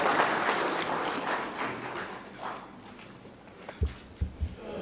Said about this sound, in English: Can we please give the ministry a round of applause?